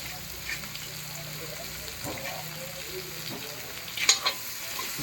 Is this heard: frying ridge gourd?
yes